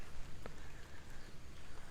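Light rain patters faintly on the grounds of a Thai Buddhist temple, a soft, even hiss with a few scattered drops and no voices.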